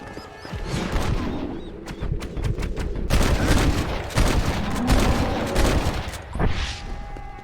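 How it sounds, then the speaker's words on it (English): Gunfire aimed at a bear in the Red Dead Redemption video game, a loud, dense volley of rapid shots rattling continuously, with booming reports and a brief lull before the barrage resumes. "A bear! Shoot it! Shoot it!"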